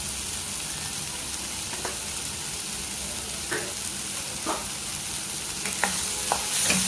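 Ground spices (red chilli powder, coriander powder and turmeric) sizzle steadily in hot oil for palak paneer, with a few soft clicks of a spoon stirring the pan at a moderate, even level.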